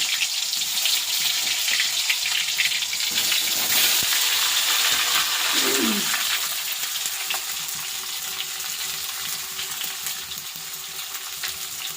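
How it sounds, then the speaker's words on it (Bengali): Large pieces of eggplant fry in oil in a wok, giving a loud, steady broadband sizzle that runs throughout and eases slightly toward the end, with a faint scrape of stirring partway through. "এই যে কড়ার মধ্যে তেল দিয়েছি, এখন বেগুন ভাজবো।"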